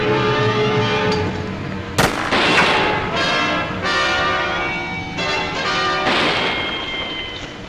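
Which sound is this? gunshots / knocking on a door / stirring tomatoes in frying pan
gunshots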